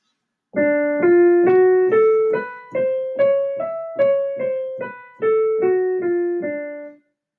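A plucked instrument plays a short scale, notes rising step by step then descending, each note clear and separate, with no talking.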